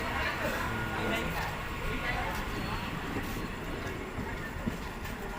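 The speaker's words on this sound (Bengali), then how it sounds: "ট্রেন চলে যাচ্ছে।" A train rolling past at a station on a line toward Sealdah, a steady loud rumble with rattling wheel noise from close by, holding level throughout.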